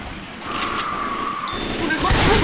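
A gunshot in Left 4 Dead 2 amid loud, noisy game action, a sharp burst of fire within a dense wash of sound, with people talking over it.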